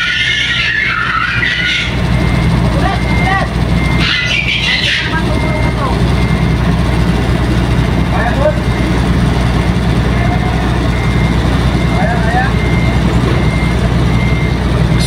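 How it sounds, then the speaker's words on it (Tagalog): A cargo truck drives aboard a ship during a sea-crossing load-in, its engine rumbling steadily under a broadband hum with a few brief beeps, while people talk in the foreground. "pag di ako nagkakamali, pang 19 truck na to."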